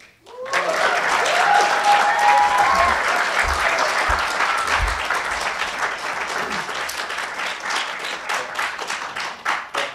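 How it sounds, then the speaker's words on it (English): An audience gives a round of applause for both tickets at the end of a student presidential debate. The clapping is full and loud at first, then slowly thins into scattered individual claps. "I'd first like to give a big round of applause for both tickets tonight."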